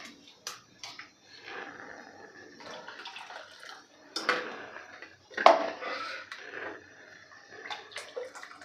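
Hot water poured from a glass into a thick vafvada curry in a pan, soft splashing and trickling in short bursts with light clinks of the pan, quiet and close, without talk.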